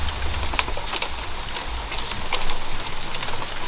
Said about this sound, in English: Mostly rain now.